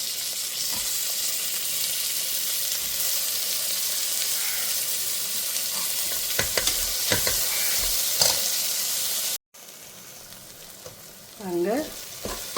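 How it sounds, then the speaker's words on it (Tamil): Tomatoes added to browned onions, ginger and garlic sizzle and fry loudly in a pan for South Indian mutton curry, with a steady hiss, intermittent stirring scrapes and a brief cut before the frying resumes. "இந்த ஸ்டேஜில் நம்ம எடுத்து வச்சுருக்கிற தக்காளியும் போட்டுடலாம்."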